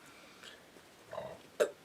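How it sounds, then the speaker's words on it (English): A short, strange burp bursts out near the end, close and fairly loud, after a couple of faint throaty sounds. "That was like a fucked up burp."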